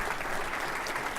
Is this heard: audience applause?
yes